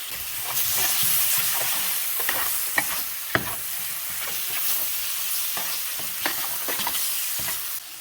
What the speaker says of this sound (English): Brown sugar to caramelize the onions.